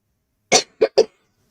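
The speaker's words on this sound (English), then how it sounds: "I will try to tone down my coughing" Three short, sharp coughs close to the listener: one, a brief pause, then two in quick succession, followed by silence.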